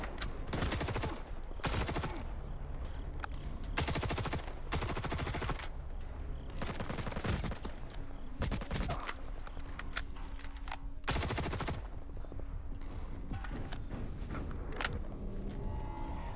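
Automatic gunfire from S.T.A.L.K.E.R. 2: Heart of Chornobyl comes in repeated loud bursts separated by short quieter gaps, sustained over a long firefight with no talking.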